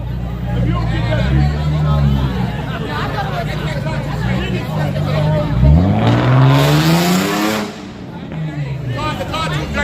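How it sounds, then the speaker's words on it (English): A loud car engine revs and roars up sharply in the middle of the clip, rising and then cutting off, over crowd chatter and people talking throughout. "the car too dirty to be making all that noise"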